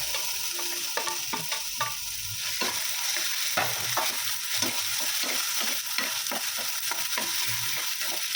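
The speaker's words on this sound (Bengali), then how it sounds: "ক্যাপসিকাম সব দিয়ে ভেজে নিচ্ছে" Pav bhaji vegetables fry with onion and capsicum in a pan, making a constant loud sizzle under repeated rhythmic scraping stirs from a spatula, close up and without speech.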